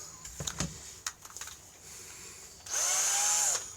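A power drill with a large 10 bit grinds into a stuck screw in a drill chuck, with scattered clicks and handling knocks first, then roughly a second of loud, steady high-pitched whine up close.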